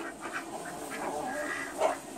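Homestead ducks quack in a few scattered, nasal calls at moderate distance, the last one louder and closer, with no talking.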